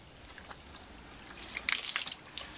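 Water poured over a car panel treated with a waterless wash-and-shine product trickles and drips in a faint, scattered patter that swells briefly into a denser splash before thinning out again.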